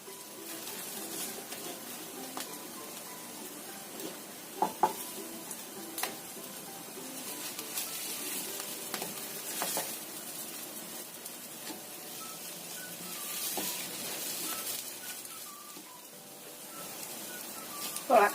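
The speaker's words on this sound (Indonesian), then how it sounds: "Pokoknya bolak-balik aja kira-kira sampai bayamnya ini matang." Spinach stir-fried in a pan and turned over as it cooks, giving a quiet, steady sizzle with occasional soft clicks and scrapes from stirring.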